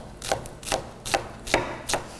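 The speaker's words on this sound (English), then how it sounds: "This is the way you should cut any and all of your onions, okay?" A knife minces an onion on a cutting board in five evenly spaced, crisp chops, close and clear with no talking.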